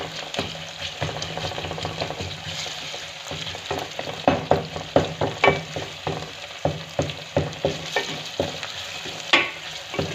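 Onion, crushed garlic and ginger frying in a pan for a mixed vegetable curry, sizzling steadily up close while a spoon stirs in repeated scraping strokes.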